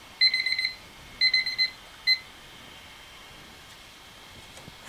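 An auction countdown timer alarm beeps in three bursts: two longer trains of rapid electronic beeps, then one short burst, clear and fairly loud over quiet background hiss, with no talking.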